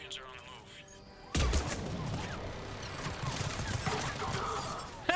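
Rapid turret gunfire erupts in a video game firefight, a sudden loud burst of dense, sustained shots and crashes that continues to the end, with game voices heard before and during it.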